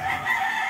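Rooster crowing near a home where an oven is being used, a brief sustained tonal call of moderate loudness, heard alone without voices.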